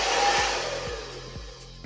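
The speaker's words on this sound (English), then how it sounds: "you can see where I had my hairdryer pointed" A hair dryer blows steadily up close, a continuous loud whoosh with faint rhythmic clicks underneath.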